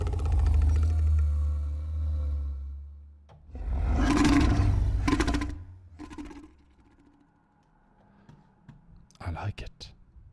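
Designed creature roar built from granular synthesis with reverb, a deep, heavy growl swelling loudly, then a second surging roar with grainy, fluttering texture, followed by softer tails and sharp clicky bursts near the end.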